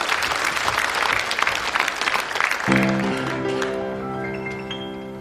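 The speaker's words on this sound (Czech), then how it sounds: "potlesk, velký potlesk pro mistra" A theatre audience applauds loudly on stage in a Czech TV show, dense clapping that fades after a few seconds as sustained music tones come in beneath it.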